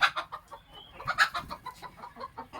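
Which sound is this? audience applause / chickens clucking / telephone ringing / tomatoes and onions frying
chickens clucking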